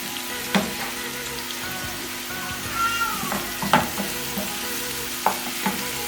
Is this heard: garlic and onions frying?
yes